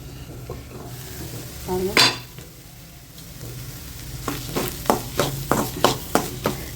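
A spoon clinks and scrapes against the pan while a capsicum and egg stir-fry sizzles, with a loud scrape early on and then a quick, regular run of stirring knocks.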